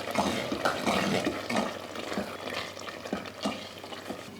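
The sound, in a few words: stirring potato curry with kasuri methi in pan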